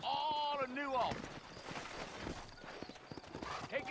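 Hooves of a horse in the Red Dead Redemption video game, clip-clopping at an easy pace while someone talks over them, with a brief whinny near the start.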